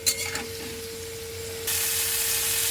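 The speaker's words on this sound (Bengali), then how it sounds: "কড়াতে আমি আরেকটু তেল দিয়ে প্রথমে আলুটা, তারপরে ফুলকপিটাকে একে একে ভেজে নেব।" Potato pieces frying in oil in a kadai, a soft hiss that jumps to a louder, dense sizzle partway through, heard alone.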